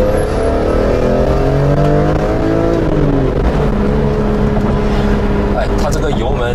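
BMW E46 M3 engine revving in Sport mode from inside the cabin, a steady rising and falling drone with shifting harmonics that runs continuously while people talk over it.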